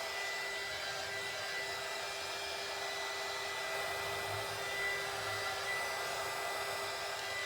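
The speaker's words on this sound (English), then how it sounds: "I'm just using my heat gun as a blow dryer." A heat gun serving as a blow dryer over drying metallic craft paint on a glass art canvas, a steady loud whooshing roar that holds without a break, close and alone.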